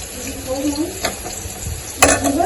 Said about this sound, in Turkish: Böyle kızartıyorum.